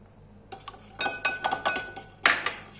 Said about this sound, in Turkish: Karıştırıyoruz. Yumurtamızı karıştırdık.